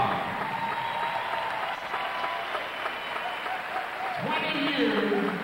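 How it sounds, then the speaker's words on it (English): Audience applause at the 1995 NCHA World Championship Futurity cutting horse event, a steady wash of clapping from a distant arena crowd, even and sustained, with a voice speaking near the end. "Let's give her a round of applause."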